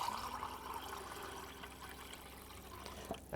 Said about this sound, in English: Bit of water in there.